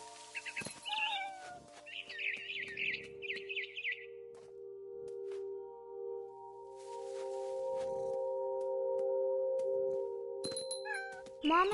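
A cat in What Remains of Edith Finch lets out several short, high meows and chirps early on, then goes quiet over a sustained musical drone, with a final sharp cry at the end.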